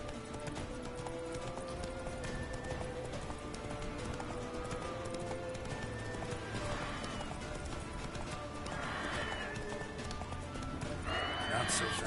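Roach, the horse in a video game, gallops with a steady rhythm of hoofbeats and gives a couple of whinnies, with game music and a voice speaking over it.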